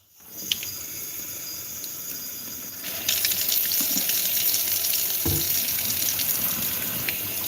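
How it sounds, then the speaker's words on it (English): A kitchen sink tap turns on and runs cold water in a steady loud gush, strengthening partway through as the flow hits the basin, with no voices over it. "I'm going to run water in the sink."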